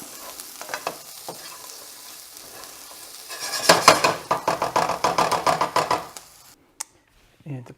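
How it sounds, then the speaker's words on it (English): Chorizo and potato hash with scallions sizzling in a pan as it is given a big stir, with a quiet fry building into loud rhythmic scraping and crackling, then cutting off. "I like to throw the majority in and just give this a big stir to mix them around"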